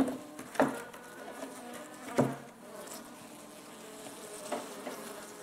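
Agitated Russian honey bees buzzing close around a hand during a hive inspection, a faint steady drone with a few louder buzzes as individual bees pass near.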